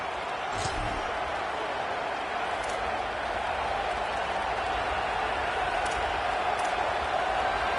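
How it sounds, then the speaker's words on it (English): A college football video game stadium crowd roars as a steady, dense wash of distant noise, with a few faint sharp thumps and a commentator talking over it. "This crowd ready to make its presence known."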